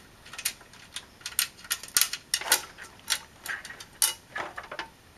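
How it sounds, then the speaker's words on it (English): A screwdriver works a nearly stripped screw loose on an Acer Veriton 5200 desktop computer, a series of quiet, close, irregular clicks and ratcheting ticks with short pauses between them. "Let me just undo this screw here, which is almost stripped out, but still more than easy to unscrew."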